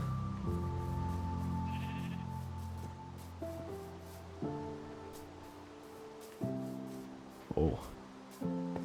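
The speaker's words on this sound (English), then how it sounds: "It's a sheep." Sheep in Minecraft bleating several times in a row, a series of short wavering tonal calls spaced every second or so, fairly close, with a brief soft speech-like bit near the end.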